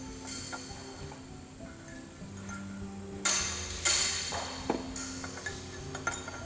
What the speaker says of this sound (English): Use the hook or C-spanner and a hammer and drive that up.